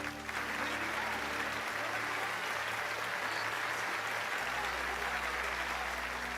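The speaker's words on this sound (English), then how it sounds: "Don't clap for him." Crowd applause in a Final Fantasy video game cutscene, a dense continuous roar of clapping from a large gathering that holds steady throughout, with a low hum underneath.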